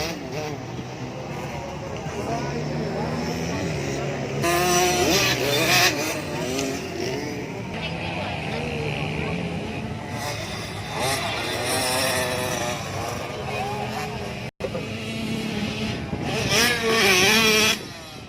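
Racing vehicles rev hard at full throttle on a circuit in Makassar during a youth race, engine whine rising and falling in repeated pass-by surges, moderately near, with people talking and shouting over it.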